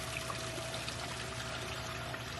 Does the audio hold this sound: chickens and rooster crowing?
no